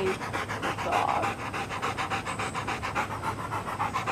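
A dog pants rapidly in a steady rhythmic series of breaths, close and fairly quiet, continuing throughout without talk.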